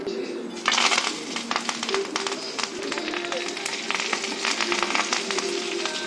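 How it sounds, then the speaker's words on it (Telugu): Dried red chillies, curry leaves, cumin and mustard seeds crackle and sizzle in hot oil for tempering, a dense popping hiss with sharp spattering bursts, close by and steady throughout. "ఇప్పుడు నేను తాలింపు వేసుకుంటున్నాను"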